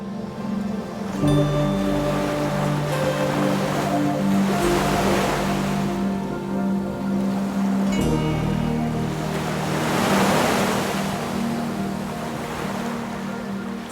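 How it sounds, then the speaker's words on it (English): Steady wash of Atlantic surf at Inis Mór, Aran Islands, Ireland, with broad swells building around the middle and end, waves rolling and breaking nearby under a continuous low rumble, no voices. "when the tide is high, the waves crash also over the top of the pool"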